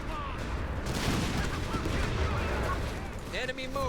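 Grenade blasts and bursts of gunfire rumble in a dense, continuous wash during a video game match, with sharper pops and brief synthetic tones near the end and a voice talking faintly underneath.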